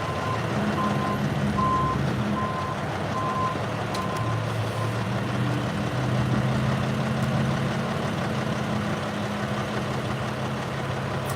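A tow truck reverses at a roadside scene where a rolled car sits propped on guy wires, its backup alarm beeping in a steady repeated rhythm over a continuous low diesel engine idle, clear and moderately close.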